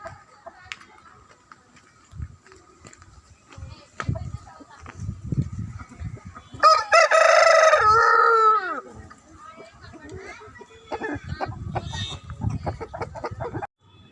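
Eastern-breed fighting roosters offered for sale crow loudly close by, one long prominent crow in the middle, with people talking before and after and a few clucks in the background.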